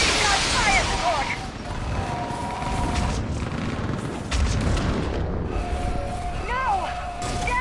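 Artillery fire-support explosions in Mass Effect, played on Insanity difficulty: loud, rumbling booms and blasts roll through a dense battle mix, with in-game voices calling out over the chaos and sweeping sci-fi effects.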